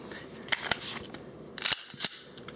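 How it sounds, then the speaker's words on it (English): Sharp metallic clicks and clacks from the slide of a semi-automatic handgun being racked and released, four or five quick mechanical snaps spread over a couple of seconds, close and moderately loud with no speech. "a round into the chamber either by racking the slide and pushing it forward, or by pushing the slide release"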